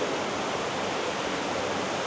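Water from a koi pond rushing out through a pulled stand pipe at a Japanese koi farm, a steady loud broadband roar like a small waterfall.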